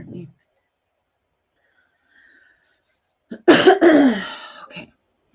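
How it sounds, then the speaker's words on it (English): A woman gives a single dry, harsh cough at close range in a quiet indoor room, after a brief faint sound and a stretch of near silence. "I've got a forever cough"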